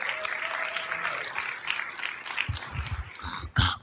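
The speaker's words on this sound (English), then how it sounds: "let's give them another round of applause." Audience applause in a city council chamber during a Norwalk council meeting, a fairly quiet, even patter of clapping that continues throughout, with a few louder sharp knocks and shuffles near the end.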